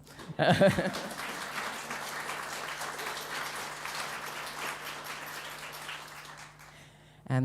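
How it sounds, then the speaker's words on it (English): A literature seminar audience claps in a steady wash of applause after a brief voice, fading slightly before a short voice returns at the end. "I agree that deserves some applause"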